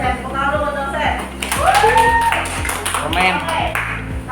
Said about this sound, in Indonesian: Tepuk dulu buat dosen.